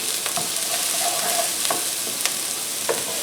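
Onions and ginger fry in a pan with a steady close sizzle, scattered soft clicks and scrapes of stirring breaking through now and then, and no one talking.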